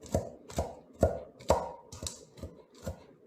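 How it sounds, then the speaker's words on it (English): A knife re-chops carrots on a board in a kitchen where Nigerian food is being made. Seven or eight steady, evenly spaced chops sound close and fairly quiet, with no talking. "I'm re-chopping my carrots because She thinks they're too big."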